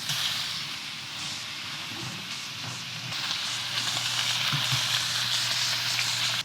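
Onion sizzles and crackles in a hot pan as the start of a salsa, a continuous close frying hiss that gets a little louder toward the end, with no talking.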